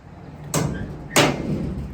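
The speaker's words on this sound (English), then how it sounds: "So that's the house door latch." Two sharp metallic clanks about half a second apart from a homemade house door latch being worked, each a loud close impact with a short ringing tail and no talking.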